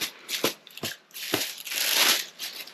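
Crinkly rustling of paper being unwrapped from a deck of affirmation cards in several short bursts, close and fairly soft, with brief pauses between.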